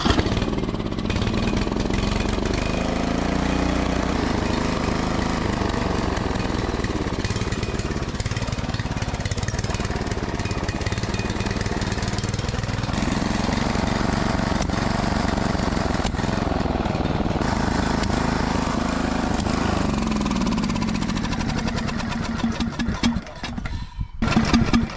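Small engine, previously out of fuel and now refuelled and choked, starting and running steadily with a rough, buzzing drone throughout, close and loud, sputtering near the end.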